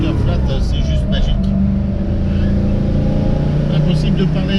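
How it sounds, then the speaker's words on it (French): A Porsche 911 type 901 with a 2.2-litre flat engine revs loudly and close, with a steady raspy drone and someone talking over it. "Elle est juste fabuleuse cette voiture avec la sonorité si particulière à ce moteur flat, c'est juste magique."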